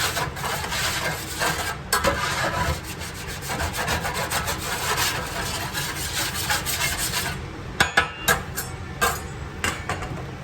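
A spatula scraping the bottom of a pan of prime rib drippings, repeated rough scraping strokes close by, ending with a few sharper knocks, with no talk.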